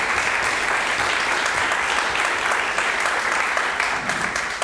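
A church congregation at a Sunday service applauds in a sustained, dense wash of clapping that fills the room, steady and loud throughout without pause.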